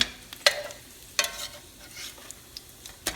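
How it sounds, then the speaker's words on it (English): Salmon patties frying in a pan, a soft steady sizzle with a few sharp scrapes and taps from a spatula as they are turned, close and fairly quiet with no talking. "I'm going to go ahead and flip them again just to make sure they're fully cooked"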